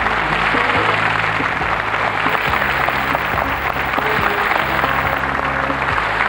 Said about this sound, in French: vous avez des applaudissements du public